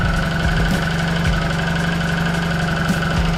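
A Suzuki Burgman 650 Executive scooter engine idles steadily and evenly at close range, a continuous low rumble with a faint periodic tick, no voices.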